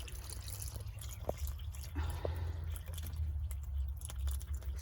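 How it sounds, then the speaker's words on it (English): Faint trickling and splashing as excess water is poured off soaking chicken feed, a few soft drips and a brief pour over low background hum. "I put a little bit too much water in here, so I'm gonna pour it off"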